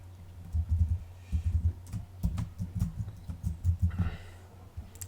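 Someone types text on a computer keyboard, producing bursts of quick, close key clicks in short clusters separated by brief pauses.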